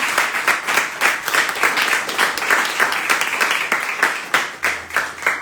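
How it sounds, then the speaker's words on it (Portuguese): Church congregation applauding at a deliverance service, loud rhythmic clapping that pulses steadily in unison throughout, close and full. "Uma salva de palmas para Jesus."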